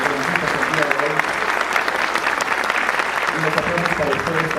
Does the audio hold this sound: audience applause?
yes